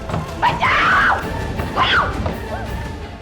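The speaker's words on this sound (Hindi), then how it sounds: "देखो कैसे चिल्ला रही है" A woman screams in a TV crime drama, two loud, strained cries in quick succession over a dim background, with no words spoken.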